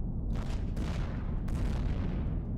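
Ship turret fire aimed at a pirate in Avorion, a dense rumbling barrage of booming shots with sharp bursts recurring every second or so over a constant heavy low roar.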